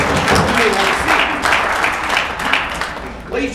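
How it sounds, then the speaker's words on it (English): An audience applauds three lotto winners at a live event, a dense, loud burst of clapping with some crowd noise mixed in. It swells and eases unevenly and rises again near the end. "Let's give all three of them a big round of applause."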